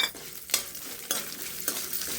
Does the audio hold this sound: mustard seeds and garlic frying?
yes